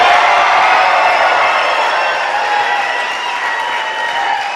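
Enthusiastic crowd at Trump's 2024 presidential campaign announcement cheering and applauding, a dense, loud, steady roar of clapping and whoops that fades slightly toward the end.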